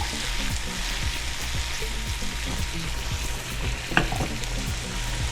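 Red peppers and tomatoes sizzle steadily in a pan for ratatouille, with scattered scraping stirs and a sharper clack near the end, close and continuous with no talking.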